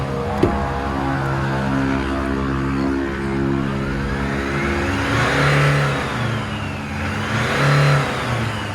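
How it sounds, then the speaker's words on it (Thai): An Isuzu D-Max 1.9 diesel engine that is blowing black smoke and lacks power is revved in two or three swelling blips over a steady idle, loud and close, with no voices. "เดี๋ยวลองเบิ้ลให้ดูอีกทีนึง"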